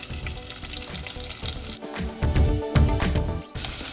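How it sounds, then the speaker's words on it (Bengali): Onion frying in mustard oil with panch phoron and dry red chilli for a shrimp jhal chachori, a steady loud sizzle with bursts of crackling and stirring, no voices. "পেঁয়াজটা ভাজা ভাজা হয়ে এসছে"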